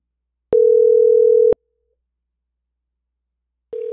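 A telephone line tone sounds during a call to one's own number: one steady one-second beep, a long silence, then the next beep starting, loud and clean.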